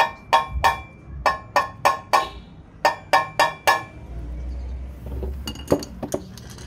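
Metal tapping while fitting an RCB big disc brake and S27 caliper on a Yamaha NMAX: a run of sharp, ringing clinks in quick uneven bursts, close and loud, then a few softer scattered taps over a low hum.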